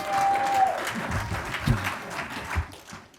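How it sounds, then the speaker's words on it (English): A church audience gives a big round of applause, a moderately loud wash of many clapping hands with low thumps and a faint voice or tone near the start. "Big round of applause for Isaac."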